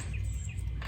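Birds chirp outdoors during a car repair, giving two short, faint high tweets over a steady low rumble of background noise.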